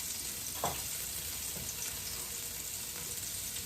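Onion hitting hot oil for a Jamaican-style brown stew porgy fish, giving a steady broadband frying sizzle throughout with a brief louder burst as it goes into the pan, no talking.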